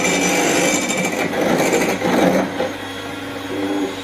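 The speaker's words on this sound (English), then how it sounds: "you add the dried stuff to the liquid, and then you whisk for 2 minutes" Electric whisk beating keto bread batter of dried ingredients added to liquid, a loud steady motor whir with a slight shift in pitch as it mixes, continuous throughout with no talking.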